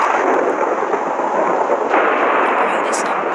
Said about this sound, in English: this is a bad thunderstorm